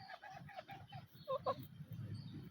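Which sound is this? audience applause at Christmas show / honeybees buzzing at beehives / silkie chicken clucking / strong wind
silkie chicken clucking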